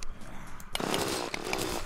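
A drill weapon in the video game Terraria revs up abruptly into a harsh, buzzing grind that continues steadily, with faint game sounds before it.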